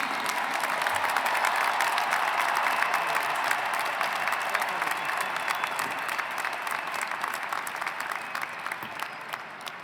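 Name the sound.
applause at a commencement ceremony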